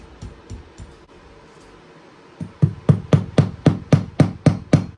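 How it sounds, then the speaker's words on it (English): A hammer drives trim nails along a carpet edge where it meets a new floor in a barn: a few light taps, then a steady run of about nine sharp, loud blows close by. "I just laid down a bunch of these trim nails right along the edge of this carpet where it meets the new floor"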